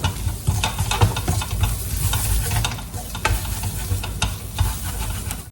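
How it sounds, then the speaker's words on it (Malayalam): Spice masala powders sautéing in a hot pan for a tapioca and beef biryani, with a steady close sizzle and fry broken by repeated scraping stirs of a spoon against the pan. "നമുക്ക് ഈ പൊടികളുടെ പച്ചമണം മാറുന്ന വരെ നന്നായിട്ടൊന്ന് വയറ്റിയെടുക്കാം"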